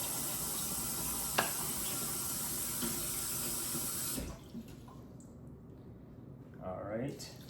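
Water pours steadily from a tap into a crock pot while borscht is being made, a loud continuous rush that cuts off midway, followed by faint clinks and a brief spoken remark.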